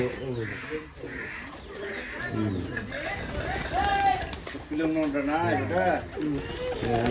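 Giribaz pigeons coo repeatedly in a loft, the soft rolling calls overlapping in a steady chorus, with a person speaking nearby over them.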